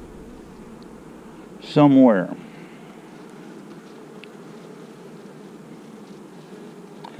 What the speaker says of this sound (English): These bees aren't nervous.